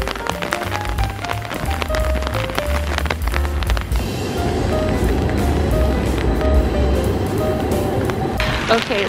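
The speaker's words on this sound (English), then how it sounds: "so obviously it's raining like crazy, and I think the shape of my umbrella changed because of how windy it is" Heavy rain drums steadily on an umbrella in wind on a city street in Edinburgh, a dense continuous patter close overhead, with music and background sounds in the first half before the rain dominates.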